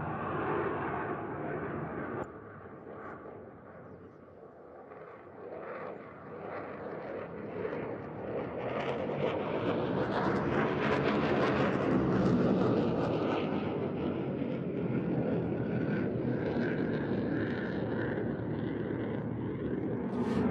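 Belgian Air Force F-16 fighter jet in a flying display, a distant roaring jet engine that swells in loudness toward the middle and stays rumbling across the whole stretch, with no voices.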